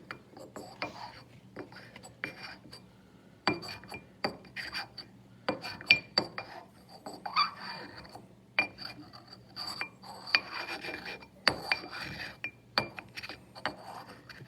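Material being ground inside a glass container for lab enzyme extraction, faint irregular clinks and scraping chinks coming in scattered bursts, with a voice talking quietly.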